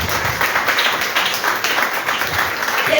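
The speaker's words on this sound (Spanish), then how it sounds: "Denle un aplauso al Señor." A church congregation applauds in praise during a worship service, steady dense clapping filling the room throughout, with some faint voices mixed in.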